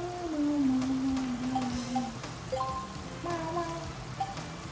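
A cat in the video game Mega Man Legends gives a drawn-out meow followed by shorter chirping cries over steady game background noise, moderately loud and without talk.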